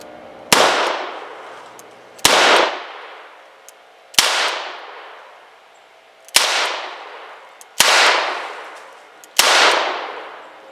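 A revolver fires .38 Trail Boss low-recoil rounds, six sharp, loud shots spaced one to two seconds apart, each followed by a ringing decay.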